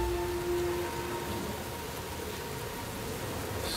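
Steady rain falls outdoors as a soft, even hiss that runs unbroken and fairly faint in the background of a scene in a Chinese family drama series.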